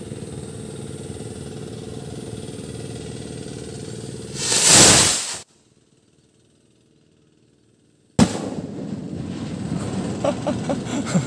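A homemade firecracker in Zamboanga goes off with one loud burst mid-clip, followed by a few seconds of near silence, then a busy outdoor roar and crackle resumes; no talk is heard.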